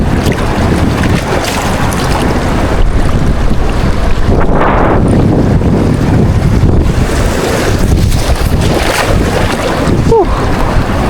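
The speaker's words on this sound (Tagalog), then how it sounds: "Laban yung hangin." Loud, constant wind roaring across the microphone on open water, buffeting in gusts over the wash of waves and a boat's motion.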